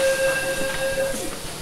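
A Tobu 20050 series electric train running on the Hibiya and Isesaki lines, heard from inside the car as a steady rolling rumble with a faint electric tone that holds briefly and then fades.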